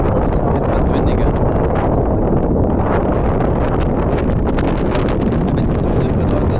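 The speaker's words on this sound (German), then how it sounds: "Jetzt wird's windiger." Strong wind buffets the microphone outdoors in St. Petersburg, a loud continuous roaring rumble with gusty fluctuations that persists throughout and masks other sounds.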